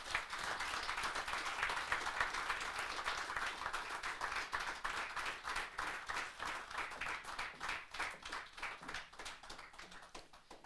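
An indoor audience applauds to welcome speaker Erika Steinbach at a political celebration, steady dense clapping that gradually thins into rhythmic, slightly synchronized claps toward the end.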